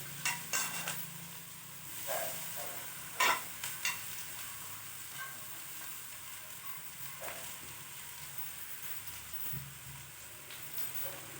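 Chopped jackfruit flower going into a pan with curry leaves for a thoran and being stir-fried: a soft steady sizzle with a few sharp scraping stirs, faint and close.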